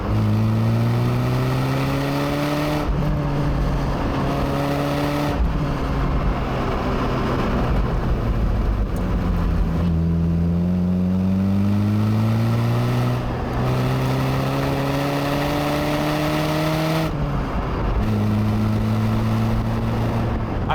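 A 1988 Vauxhall Cavalier SRi 130 engine screams as it is driven hard, rising in pitch through each gear, briefly dropping on the shifts and climbing again, loud and continuous from inside the car with no talking.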